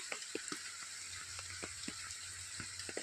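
Steady rain falls during the monsoon, a continuous hiss with scattered louder drips and patters landing close by, no voices.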